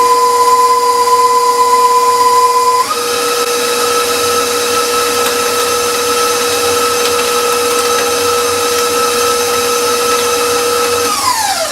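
An electric mixer beats cookie dough in a steady, loud whirring drone that shifts pitch once early and slows near the end, with no talk.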